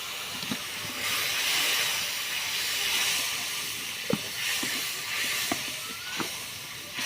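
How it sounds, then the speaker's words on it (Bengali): Water added to a hot pan of curry with prawns, hilsa fish heads, taro, eggplant and Malabar spinach sets off a steady, loud hissing sizzle with small pops and bubbling crackles, close up and continuous. "এবারে দেব সামান্য জল।"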